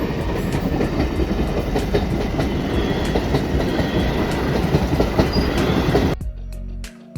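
A fast train rolls through a railway crossing gate, a loud, steady rumble and rattle of wagons close by that cuts off abruptly near the end.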